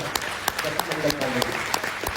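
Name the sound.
loud audience applause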